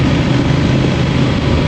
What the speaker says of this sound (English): I like the exhaust note. I like the sound of it.